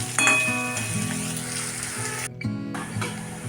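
Finely chopped onions frying in oil until reddish, a steady close sizzle with a low hum and a brief dip partway through.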